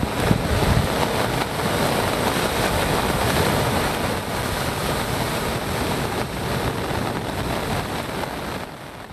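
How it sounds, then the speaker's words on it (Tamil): Rough seas whipped up by a cyclone send waves crashing onto the shore at a Tamil Nadu fishing village, a continuous loud roar and rush of surf mixed with gusty wind buffeting the microphone. "சாமியார்பேட்டை கிராமத்தில் கடல் சீற்றத்தால் அலைகள் பல மீட்டர் தூரம் வரை எழும்பியது."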